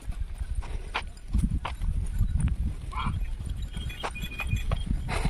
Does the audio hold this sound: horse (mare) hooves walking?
yes